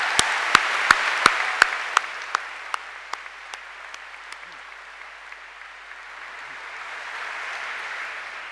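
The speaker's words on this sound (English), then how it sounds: "a round of applause will be good" A few slow, sharp claps ring out first, then a broad wave of audience applause spreads through a university graduation hall and swells toward the end.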